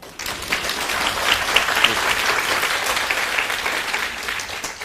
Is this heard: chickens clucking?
no